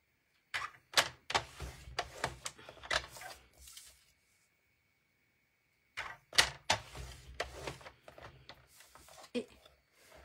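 Paper being folded and creased into a box makes a series of crisp rustling snaps and sharp taps, grouped in short bursts, with a silent pause in the middle before another run of creasing.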